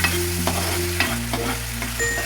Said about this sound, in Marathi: आता हलका असं भाजून घ्यायचं, लाल होईपर्यंत चांगलं व्यवस्थित